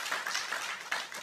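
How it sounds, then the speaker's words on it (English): Brief, faint applause for conference organisers, a small audience clapping unevenly for about a second. "round of applause"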